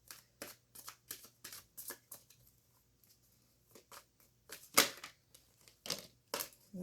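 Tarot cards are shuffled by hand in a quiet room, giving a string of quick, crisp riffling bursts at an uneven rhythm, close and fairly faint, with a short pause in the middle and one sharper snap.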